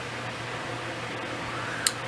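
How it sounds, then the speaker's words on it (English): Steady electric fan whirring in a room, a soft continuous broadband hum with no talking and one tiny click near the end. "I don't know how the audio is because the fan is whirring around"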